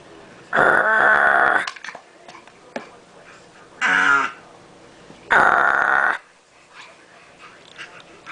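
A dog gives three growling, grunting vocalizations, two longer and one shorter, loud and close, with quiet gaps between them.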